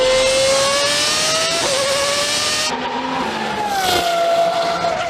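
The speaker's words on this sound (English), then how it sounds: "the R Evo Roadster has a naturally aspirated V12 with even more power than the twin-turbo Huayra" Pagani Huayra R Evo Roadster, a track-only hypercar with a naturally aspirated V12, wails at high revs close by, its pitch climbing and shifting through gears in one loud continuous run with no talking.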